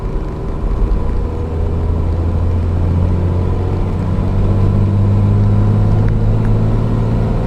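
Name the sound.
12v Cummins diesel truck engine revving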